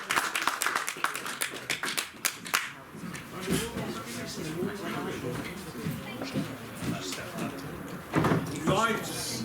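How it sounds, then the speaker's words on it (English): A small poetry-night audience gives sparse, fairly quiet claps for a poet, with sharp separate hand strikes at first. Then a speaking voice takes over. "Let's everybody give him a big clap."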